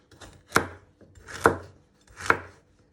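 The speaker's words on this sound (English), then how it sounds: "you just want to chop them into pieces" A knife chops peeled carrots into pieces on a board, three crisp, evenly spaced cuts about a second apart, close and clear with no talk.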